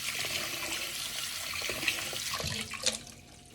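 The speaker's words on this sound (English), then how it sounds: "And then let me rinse this off." Hands are rinsed under a running kitchen tap, a steady close hiss of flowing water with splashes shifting as the hands move, fading near the end, with no voices.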